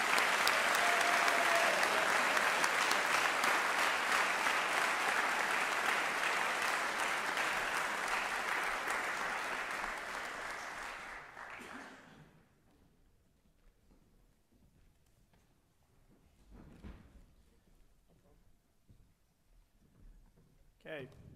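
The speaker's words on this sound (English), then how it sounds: "But let's give a round of applause for Rich Topazian." Sustained applause from an audience at an awards ceremony, loud and dense for about ten seconds before tapering off into near quiet with faint room noise and brief murmurs.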